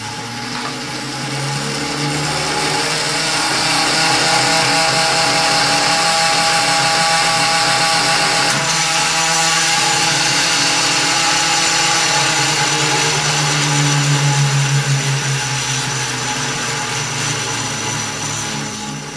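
Gyroscopes spun up on a homemade rig with an elastic band and string: a steady, loud mechanical whir and hum that holds nearly constant throughout, with no talk.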